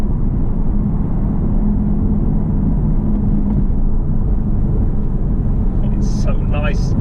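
A manual Aston Martin Vantage AMR engine drones loudly from inside the cabin, a steady low rumble that holds through the run, with a few brief high chirps near the end.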